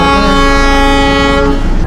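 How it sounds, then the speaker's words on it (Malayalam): The Darjeeling toy train sounds its whistle on departure: one long, loud, steady blast close by that cuts off after about two seconds. "വിസിലടിച്ചു,"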